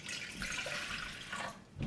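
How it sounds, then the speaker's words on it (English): Water is poured from a one-cup measure into a mixing bowl for bread dough, a short, soft, continuous splashing trickle that stops near the end. "Pour the 1 cup of water into your mixing"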